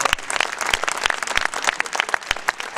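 An audience at a live comedy show claps steadily and loudly, dense applause filling the room without letting up.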